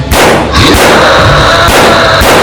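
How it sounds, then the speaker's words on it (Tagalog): Animated aswang horror story gunfire: a handful of loud, sharp gunshots fired in quick succession, close and booming with echoing tails. "sunod-sunod itong pinaputukan"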